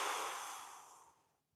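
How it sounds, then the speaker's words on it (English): A single deep breath out during squat practice, a long, close airy exhale fading steadily over about a second and a half, with no talking. "Then I take a big breath in, I breathe out, big breath in, I breathe out"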